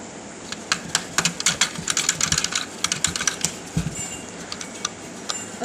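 Rapid typing on a computer keyboard, close and fairly loud, with irregular bursts of crisp key clicks over steady background hiss and no voices.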